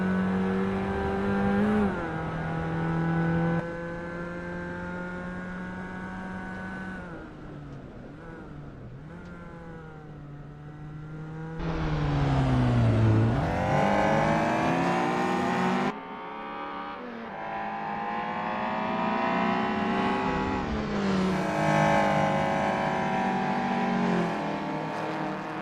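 A Peugeot 205 GTI 1.9 race car in a practice session on the Bannochbrae Reverse circuit in a racing game. The engine climbs and drops through the gears, revving hard in repeated pulls, loud and close throughout.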